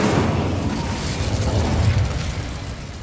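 Incendio fire spell cast in the video game Hogwarts Legacy; a loud, sustained whooshing, rumbling burst of flame that fills the whole moment without talk.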